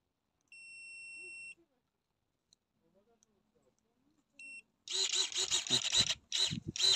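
Cordless olive pruning shears give a short electronic beep as the circuit engages after the battery is fitted, two brief tones in a quiet space, followed by louder handling clatter and mechanical noise up close.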